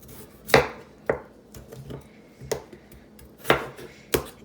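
A knife chops through potatoes into slices on a cutting board, six sharp separate strikes at an uneven pace, close and clear with no talk, for homemade mashed potatoes.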